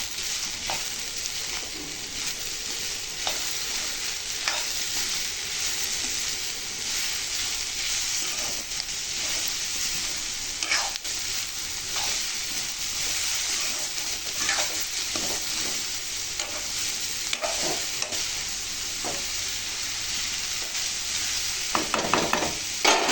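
Sliced carrots with chili powder sizzle steadily in a hot pan for a home-style carrot fry. A spatula stirs and scrapes the pan now and then over the constant frying hiss.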